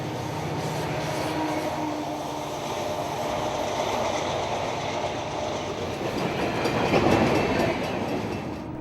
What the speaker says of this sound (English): there were still plenty of trains to see, immensely long by European standards